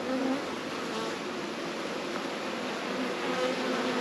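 A dense, continuous buzzing of a honeybee swarm, a steady drone with no voices.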